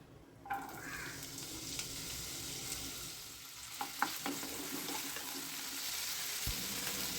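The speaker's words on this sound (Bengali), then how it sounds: "এইবার এখানে যে কিছুটা গাজর একটা গাজরের হাফ আর আট দশটা বিনস আমি এখানে কুচিয়ে নিয়েছি এরকম করে এটাকে আমি এই তেলের মধ্যে দিয়ে ভেজে নিচ্ছি" Chopped carrot and green beans fry in oil with a continuous hissing sizzle. A few utensil clinks and stirring scrapes sound close by.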